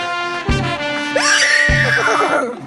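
A woman imitates a horse neigh with her voice, a rising and falling whinny lasting a couple of seconds, close and loud, with a couple of soft knocks underneath.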